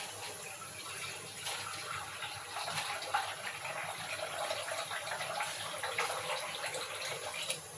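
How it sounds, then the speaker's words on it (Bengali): A bowl of water is poured into a pot of milk and sago, giving a steady gushing splash that runs for several seconds at moderate, even loudness close by. "আর এই যে ভর্তি করে 1 বাটি জল দিলাম।"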